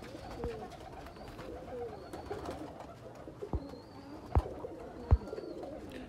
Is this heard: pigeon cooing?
yes